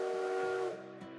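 A steam-style train whistle sounds in a video game, a steady held tone that fades after about a second, followed by a shorter fainter blast.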